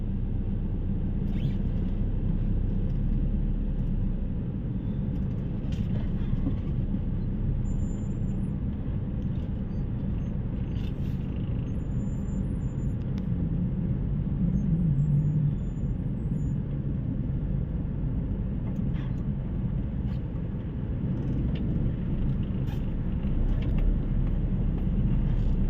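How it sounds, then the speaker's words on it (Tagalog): Steady road traffic rumbling through a long underground passage, a constant low engine drone with occasional louder passing vehicles and faint higher clatter, sustained throughout without speech. "It's traffic."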